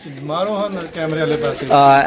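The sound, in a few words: pigeons cooing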